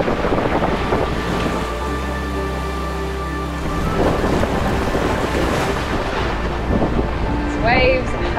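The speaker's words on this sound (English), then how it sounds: "These waves have a lot of bite to them." Rough sea waves slosh and crash around a sailing boat off Far North Queensland amid wind buffeting and a low engine drone, with brief voices near the end.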